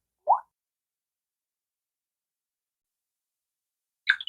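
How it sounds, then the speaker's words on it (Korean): An old phone's lock screen sounds: two short, soft electronic blips separated by a long silence, the first a low plop and the second a brighter chirp, clean and close. "잠금 화면 소리"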